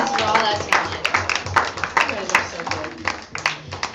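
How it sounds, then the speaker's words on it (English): Audience applause at a school student showcase, a loose patter of many hands clapping at moderate distance with uneven sharp hits throughout, mixed with some voices in the room. "A round of applause for all that"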